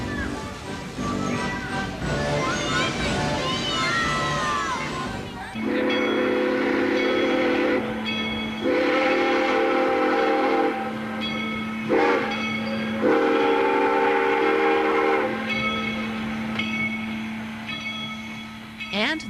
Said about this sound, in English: The 353 is one of the few operating steam locomotives in the country.